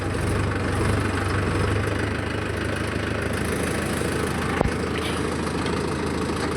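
A Mahindra 575 DI XP Plus tractor engine runs steadily in low gear in a groundnut field, a loud continuous diesel drone with a deep throb and one brief knock near the end.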